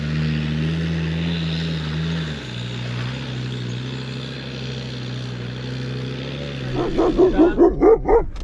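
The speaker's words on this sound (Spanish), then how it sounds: "ya veis cómo se pone Conan con los perros que encontramos por el camino" Near the end, a dog on a trail lets out a rapid run of about six loud, close barks at other dogs, over a steady droning engine hum.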